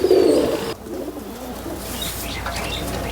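A pigeon coos loudly and close at the start, then the sound drops to faint background rustling and distant bird chirps.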